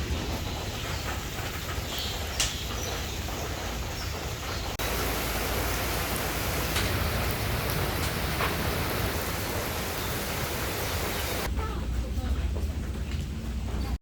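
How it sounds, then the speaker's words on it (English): Heavy rain pours steadily over a campsite on Pulau Ubin, a dense continuous hiss with occasional sharper drops and faint rumbles underneath, unbroken for the whole stretch. "it is still raining"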